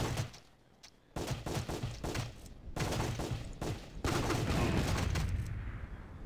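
Gunfire from the Windows shooting game Sure Shot, a rapid string of loud shots in bursts with brief gaps, the final stretch an almost continuous volley.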